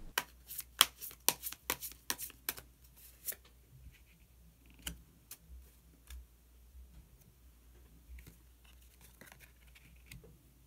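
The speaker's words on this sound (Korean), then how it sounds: "히든 카드를 한 장 더 뽑아보도록 하겠습니다" Tarot cards are shuffled and drawn: a quick run of sharp, close riffling snaps and flicks, followed by sparser soft taps and card slides in a quiet room.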